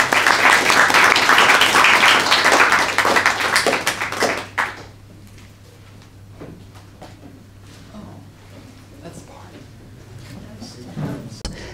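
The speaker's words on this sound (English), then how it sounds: "may I offer an applause to our speakers this evening" An evening lecture audience claps for the speakers after a vote of thanks, a loud burst of applause that fades away within a few seconds, leaving a quiet room with scattered small knocks and rustles.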